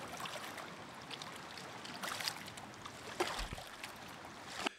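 A looping game sound effect of shoreline water gently rippling and lapping, a soft continuous wash with occasional small splashes, fairly quiet.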